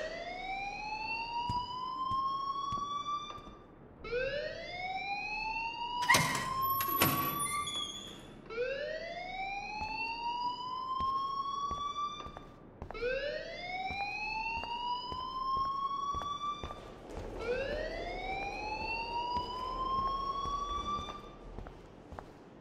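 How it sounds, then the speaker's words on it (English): An alarm in a video game wails in repeated rising sweeps, about five cycles with short gaps between them, and a sharp, shrill burst cuts in midway. "please turn off that alarm since that's your job"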